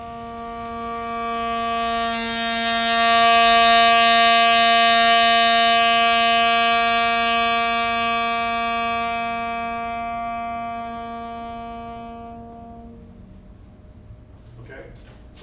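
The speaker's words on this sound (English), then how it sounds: "I'm gonna take a long tone. I'm gonna start soft. I'm gonna get loud and then back down soft again." Saxophone sustains a single long tone at a jazz clinic, swelling from soft to loud and tapering back down over about thirteen seconds, steady and rich in overtones, then stopping.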